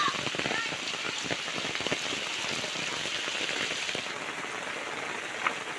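Heavy rain pours down steadily on a village, a dense, continuous hiss and patter of drops on surfaces with no pauses, loud and close throughout.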